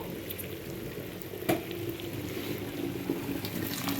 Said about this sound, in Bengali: কষানোটা পুরোপুরি হয়ে গেছে, এবার আমি গরম জল দেবো।